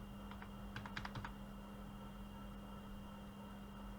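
A short flurry of computer keyboard keystrokes, several quick clicks in the first second and a half, then only a steady low electrical hum with no further typing.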